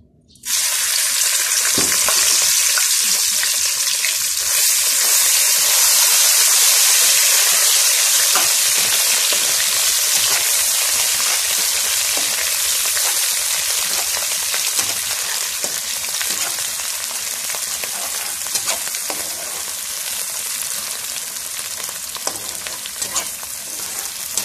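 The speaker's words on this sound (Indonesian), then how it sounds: "minyak dah panas ya. Kita letak kita punya sambal tadi kita tumbuk tu" A pounded paste of shallots and dried chilies hits hot oil in a pan, bursting into a loud, dense, continuous sizzle that holds steady and close with occasional faint stirring scrapes.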